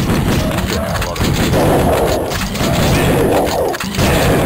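A rocket launcher fires in a first-person shooter video game, giving loud, dense booming blasts and crashing impacts that pile up almost without pause from start to end.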